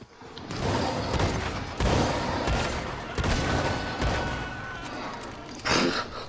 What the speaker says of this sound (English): None of my bullets were landing on him.